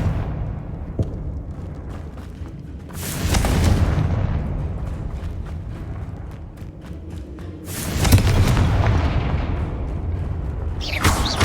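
Two Confringo blasting-spell explosions in the Hogwarts Legacy video game, each a loud broadband boom several seconds apart over a continuous low rumble of game ambience.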